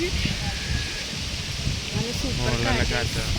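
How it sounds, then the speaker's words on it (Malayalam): Strong wind on a hilltop buffets the microphone in low gusty bursts, with a person talking over it. "സൂപ്പർ കാറ്റ്, മലയുടെ മേളിലാണ് നല്ല കാറ്റ്"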